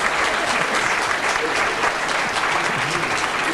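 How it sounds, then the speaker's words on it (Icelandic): An audience at an Icelandic comic verse-makers' evening breaks into sustained applause, dense and even clapping from a large crowd throughout. "það var svo mikið klapp"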